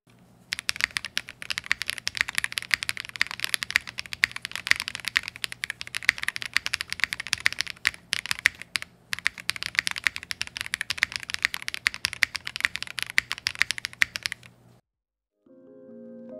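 Steady, rapid typing on a Graystudio AERO.75 mechanical keyboard with foam behind the PCB, a close, continuous patter of keystrokes for about fourteen seconds that then stops, with no talking.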